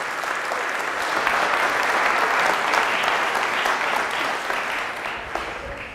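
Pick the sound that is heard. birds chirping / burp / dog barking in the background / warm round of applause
warm round of applause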